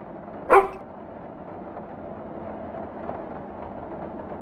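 A single dog bark in the video game Gemini Rue, one short sharp burst near the start, then only a low steady ambient hum.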